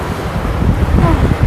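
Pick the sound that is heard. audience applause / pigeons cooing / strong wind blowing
strong wind blowing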